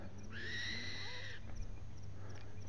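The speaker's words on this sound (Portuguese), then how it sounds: "Olha a coruja." An owl calls at dawn by a reservoir near Curitiba, a short harsh screeching note over steady low background hum and faint ambient noise, fairly distant.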